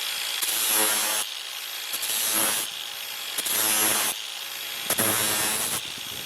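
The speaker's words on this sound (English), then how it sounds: "work the grinder down past the edges of the peen" A grinder is worked across the pitted peen of a jewelry hammer in four repeated passes, each a loud, harsh, rasping stretch of about a second, with brief easing between strokes and no talking.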